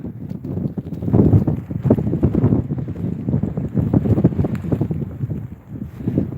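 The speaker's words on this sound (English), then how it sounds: "Look at the wind over here" Strong winter storm wind in upstate New York, a continuous loud roar buffeting the microphone in gusts for the whole stretch, with no voices.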